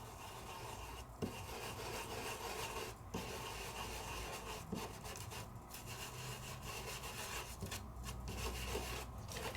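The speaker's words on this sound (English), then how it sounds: "I'm gonna take my brush, my scrubber brush is what they call it, scrubbers." A scrubber brush rubs Aurora Flakes onto a card with a steady, close, soft scratchy friction, briefly broken by a few short gaps as the strokes change.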